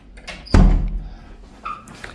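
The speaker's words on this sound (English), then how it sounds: "Just shut this door to the ensuite." An ensuite door in a Spanish villa's master bedroom is pushed shut with a single solid thud, close and fairly loud, followed by faint rattling.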